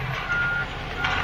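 A concrete truck reverses during a pour, its backup alarm sounding in a steady series of clear electronic beeps over a constant low engine rumble.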